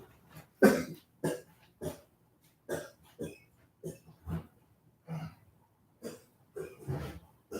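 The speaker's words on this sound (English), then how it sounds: "Coughing a lung." A man coughing hard in a quiet room during a casual manga chat, a series of harsh, close coughs with throat-clearing repeating at roughly even intervals, no talk over them.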